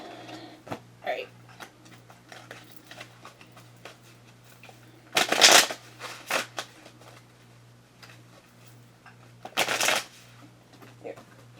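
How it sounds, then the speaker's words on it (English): Playing cards shuffled by hand in two bright riffle bursts, one near the middle and another toward the end, with light handling clicks and taps of the deck in between over a steady low hum. "Yeah, I'll still shuffle you guys."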